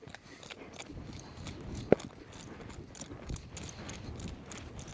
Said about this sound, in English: see how he's really extending his trot there